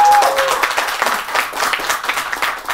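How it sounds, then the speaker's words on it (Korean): An audience at the opening of an academic seminar at Dongguk University applauds warmly, a dense loud wash of clapping that holds steady for the whole stretch, with a brief tone at the start. "뜨겁게 박수로 시작하겠습니다"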